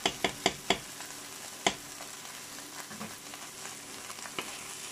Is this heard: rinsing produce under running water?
no